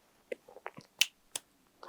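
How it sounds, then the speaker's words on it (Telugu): Several sharp finger snaps ring out in an irregular sequence, close and crisp against a quiet background. "చిటికేయండి"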